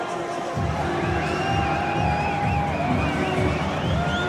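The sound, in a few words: rugby match crowd getting boisterous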